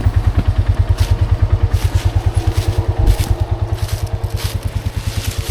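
A four-wheeler ATV chugs along a storm-damaged trail, its engine pulsing in a fast, even thump near and loud, with clattering and scraping from brush and debris.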